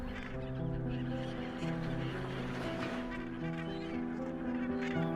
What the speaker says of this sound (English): The skeleton coast of Namibia also witnesses the resilient yet precarious survival of the Cape gannet.